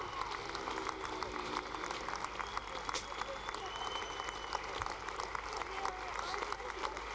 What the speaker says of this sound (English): a well-deserved round of applause to the 261 Tigers